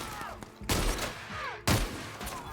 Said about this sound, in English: The shotgun rocks.